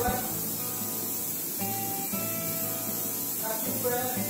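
A paint sprayer sprays an interior wall of a new construction with a steady, continuous hiss, close and fairly loud, with a low mechanical hum underneath and a few tonal shifts as the sprayer moves.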